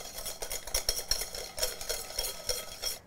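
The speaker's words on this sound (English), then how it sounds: "So you just want to keep whisking until you have a ribbon." A whisk beats a thick custard mixture for a banana cream tart toward the ribbon stage, giving a steady run of quick, close scraping strokes against the bowl for about three seconds, with no talking.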